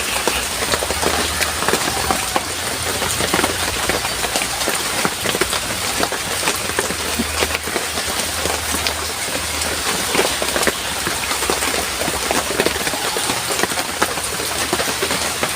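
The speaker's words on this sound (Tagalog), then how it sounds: "Mahina na yung ulan pero ambun-ambun lang." Light drizzle falls steadily on surfaces nearby, a soft continuous patter of small drops with a faint low hum beneath it, no voices.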